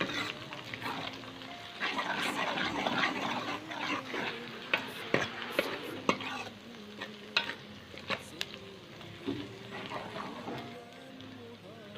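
Ginger garlic paste stirred and frying with browned onions in a pan for fish biryani, a steady close sizzle with scraping stir strokes and clinks throughout.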